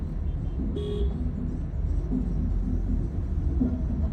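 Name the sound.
Honda City car horn honking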